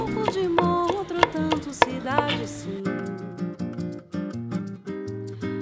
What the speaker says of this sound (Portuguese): A gente vai pegar aqui umas cinco cabeças de alho. Vamos picar bem picadinho.